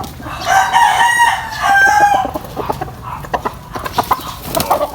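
A Tornado Hatch gamefowl rooster of a straight-comb Mount Banahaw line crows loudly and close by, a long drawn-out call followed by sharp clucks and ticking sounds, with no voices.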